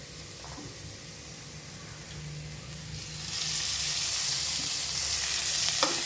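Sliced bitter gourd sautés in a pan for a Sunday gourd curry, a soft sizzle that swells louder about halfway through into a steady frying hiss, with a few faint clicks and no voices.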